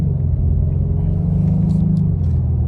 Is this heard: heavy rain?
no